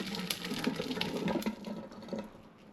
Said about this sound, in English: I'm just going to pour the water off the rice.